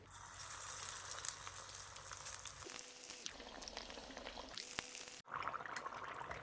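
Chicken spring rolls sizzle and bubble in hot oil during a second frying in a saucepan, a steady crackling fry with a few soft clinks, fairly quiet and close, briefly cutting out near the end.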